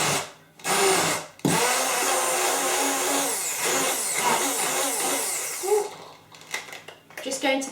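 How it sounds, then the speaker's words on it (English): Blender briefly chopping oats for flapjacks, a loud close whirring grind that runs for a few seconds and then cuts off, with a voice talking over and after it. "I'm just going to blend a few of them. You can do it with a stick blender or with any different types of blender."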